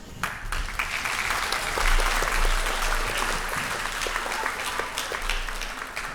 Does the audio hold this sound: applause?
yes